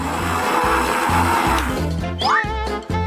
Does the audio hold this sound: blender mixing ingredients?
yes